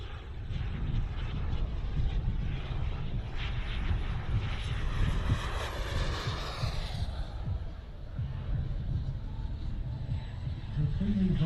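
A model aerobatic Chipmunk engine drones continuously at a model air show. Its pitch rises and falls as the plane passes, with faint crowd ambience and a commentator talking over it.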